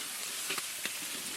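Ginger garlic paste sizzles in a pan, a continuous soft hiss of frying with a couple of faint clicks of a stirring spoon.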